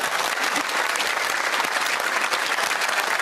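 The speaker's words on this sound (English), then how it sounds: "we're going to recognise it with a big round of applause" A television game-show studio audience breaks into a big round of applause, dense and continuous clapping filling the room from start to finish with no talking.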